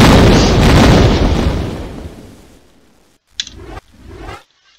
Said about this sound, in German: Ja, diese Explosionen sind